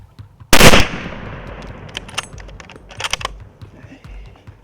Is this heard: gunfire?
yes